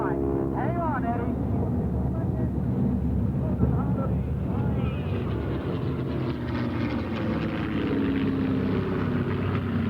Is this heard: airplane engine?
yes